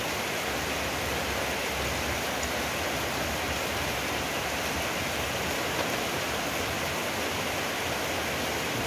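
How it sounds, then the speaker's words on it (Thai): Rain falls steadily at a rural home kitchen, a dense, even hiss of drops that holds constant throughout, with no voices. "ดีใจหลายครับฝนตกแล้ว"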